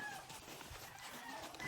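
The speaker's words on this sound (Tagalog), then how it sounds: "Manok." Village chickens around a rural Philippine home, with quiet scattered clucks and soft calls against faint background noise, heard briefly.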